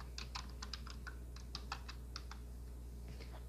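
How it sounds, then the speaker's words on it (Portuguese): Keys tapped on a computer keyboard while entering a command in AutoCAD, a quick run of light, crisp clicks in irregular bursts with short pauses, close and fairly quiet over a low steady hum. "vamos digitar Image Clip no teclado"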